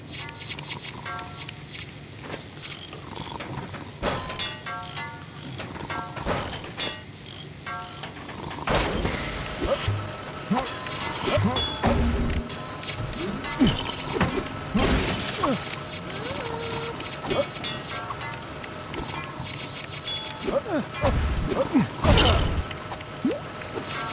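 A wrench ratcheting and clanking while repairing a busted delivery tube in The LEGO Movie Videogame, rapid mechanical clicks and scrapes repeating in bursts over game music and effects.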